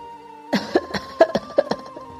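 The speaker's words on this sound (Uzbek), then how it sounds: "uni birdilla yo'tal tutdi." A man in a Uyghur audio drama breaks into a sudden fit of coughing, a quick cluster of about eight harsh, close coughs in uneven rhythm, alone against a quiet background.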